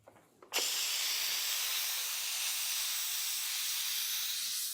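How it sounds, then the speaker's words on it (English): An Instant Pot does a fast pressure release after cooking carne con chile colorado y papas: a brief click, then a loud, sustained, even steam hiss that rushes on without pause. "Place your lid over the Instant Pot, and you're gonna continue to cook for 30 minutes with a fast pressure release."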